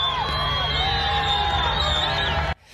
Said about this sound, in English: You can hear people cheering,